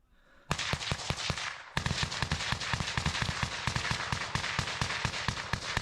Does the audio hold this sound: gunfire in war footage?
yes